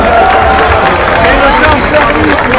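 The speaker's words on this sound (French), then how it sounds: "Merci à vous, vous pouvez vous applaudir" Audience at a festival award ceremony for brass bands, with dense, continuous clapping and crowd noise filling the whole stretch, loud and steady, with voices mixed in.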